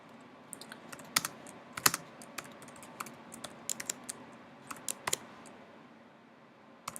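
Typing on a computer keyboard, quiet close key clicks in uneven bursts with brief pauses between, alone without talking.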